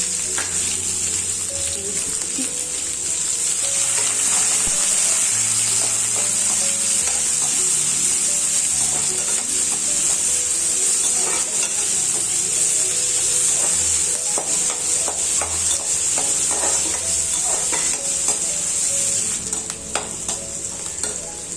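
Onions sautéed in a pan for Thanjavur-style kadappa, with a continuous bright sizzle and repeated scraping strokes of stirring, close and steady with no voices.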